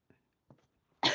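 A couple of soft throat sounds lead into one sharp, loud cough at the end, close to the microphone in a quiet room.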